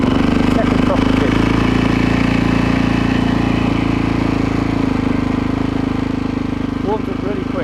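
A KTM 660 SMC single-cylinder motorcycle runs steadily just after being kick-started, a loud continuous engine throb close by, with someone talking briefly over it.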